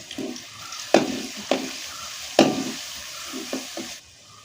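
Chopped shallots with crushed ginger and garlic sizzling in a pan while a spoon stirs them, giving several sharp scraping strokes over a continuous close frying hiss, then a sudden quieter tail.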